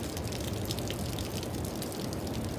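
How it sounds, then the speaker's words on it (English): Strong runoff water rushing behind a fence after heavy rain, a steady, dense gushing and splashing wash that stays constant and fairly close, with no voices. "That's water already running, and it's very strong"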